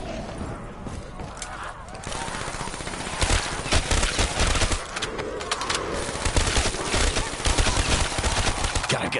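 Rapid gunfire in Black Ops 3 Zombies on the Kino der Toten map keeps up through the clip, fairly loud, busy and layered with game effects, while a voice talks over parts of it.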